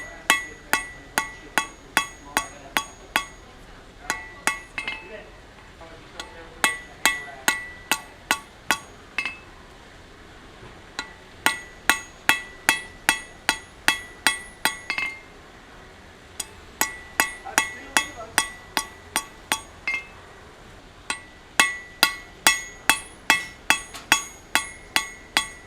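Bursts of sharp, ringing hammer blows on hot steel on an anvil, rapid and rhythmic, metallic clangs in groups separated by short pauses, close and clear.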